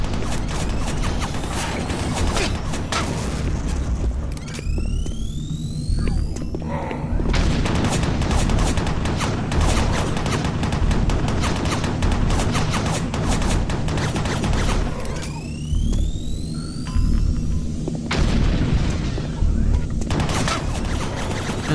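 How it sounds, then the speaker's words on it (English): Minigun in Doom 3 that sounds like the Quake 2 weapon, loud sustained rapid-fire bursts with crashes and booms over about twenty seconds, with whirring spin-up sweeps between volleys and no speech. "There's been a sound of the Quake 2 minigun, doesn't it?"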